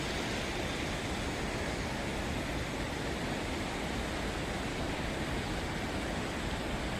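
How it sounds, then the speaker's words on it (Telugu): Heavy river water rushes steadily in a dense, unbroken roar, loud and close, with no pauses across the whole stretch. "నీళ్లు విస్తారంగా ప్రవహిస్తున్నాయి."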